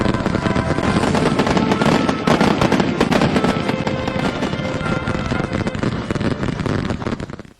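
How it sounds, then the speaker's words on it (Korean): Dense crackling fireworks popping rapidly and continuously at a village celebration of new homes on a farm in South Hamgyong, North Korea, loud and close, a sustained barrage that fades out at the end. "마을에서는 새집들이 경사를 더해주며 불꽃놀이가 진행되고"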